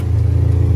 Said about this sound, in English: We're doing a little shakedown run of the RZR